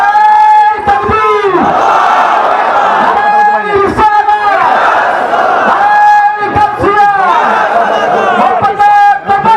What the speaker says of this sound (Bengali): কারা কারা খুশি হাত তুলে স্লোগান লাগাও